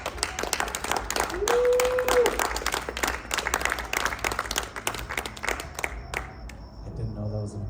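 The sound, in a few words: audience applause at film festival awards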